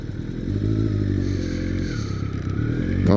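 A new rider's motorcycle engine nearly stalling, a loud low steady rumble that labors and fluctuates close by, ending in a brief rise as the throttle picks up, no talking.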